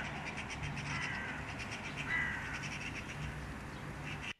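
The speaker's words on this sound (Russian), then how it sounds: "и вороны каркают, и еще кто-то" Crows caw outdoors on a sunny day, a scatter of faint, distant calls over a steady ambient background, with no talking.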